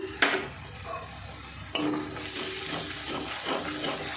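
Fish masala for rohu sizzles softly in a pan as chili powder and sugar are stirred in, with a sharp clank at the start and a steady frying hiss under occasional spoon scrapes.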